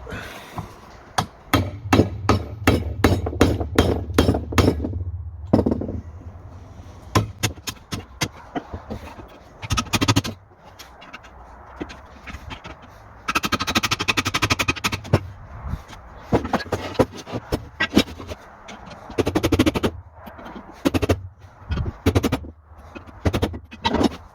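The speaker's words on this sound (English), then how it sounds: "All we need to do is now just finish removing this outer plate here. Just take a bit of chiseling." Sharp metallic hammer blows drive a chisel against the outer plate of a rear wishbone bushing on a 2004 Audi A4 B6, in rapid bursts of ringing strikes with short pauses, close and loud.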